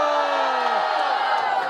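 Crowd at a trio rap battle roars and whoops together in a sustained, loud burst of cheering and shouting from a packed audience.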